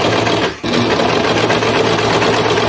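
A serger sewing machine with a gathering foot stitches fabric in a steady, loud, close mechanical whir, with one brief dip before the run carries on.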